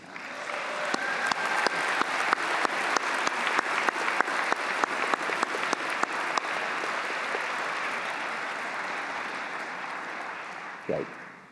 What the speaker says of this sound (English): Graduates, please join me in a big round of applause to say thank you.